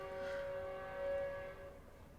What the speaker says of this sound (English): I'm sorry the train is so loud right now.